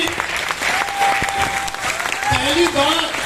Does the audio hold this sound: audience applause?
yes